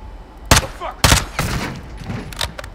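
Gunfire in Call of Duty: Modern Warfare II, two sharp, loud close shots followed by a few quieter bursts and a final crack.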